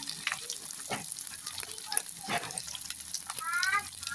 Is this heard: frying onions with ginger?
yes